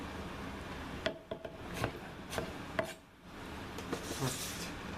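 Ingredients for a mushroom risotto are chopped on a cutting board, a few soft, irregular knife taps and thuds heard close and fairly quiet with no speech.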